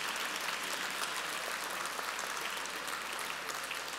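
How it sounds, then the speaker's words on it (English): Dense, steady applause fills a hall at an awards ceremony, a continuous wash of many hands clapping at constant loudness throughout, with no voices on top. "Give yourselves a big round of applause for all your great work, all of you."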